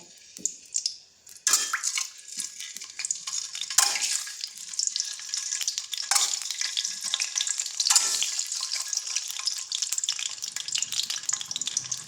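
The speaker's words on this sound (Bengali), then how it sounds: "এখন ডিম দিয়ে দিচ্ছি, ডিমটা ভেজে নেব, হলুদ দিয়ে ভেজে নেব।" Eggs hit hot oil in a wok-style pan and burst into a bright, crackling sizzle after a brief quiet start, spitting and popping steadily close by with no talking.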